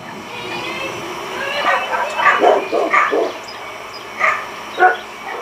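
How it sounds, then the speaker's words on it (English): Dogs barking in bursts inside a house, several loud yips and barks clustered together, then a pause and a couple more sharp barks near the end. "the dogs decided to go crazy"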